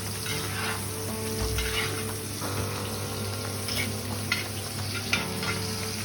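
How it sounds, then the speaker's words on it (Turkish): Melted butter is spooned over steak in a cast iron pan, giving a steady close sizzle with occasional light clicks of the spoon and no talking. "Erimiş tereyağını bir kaşık yardımıyla etimizin her iki yüzeyine de döküyoruz."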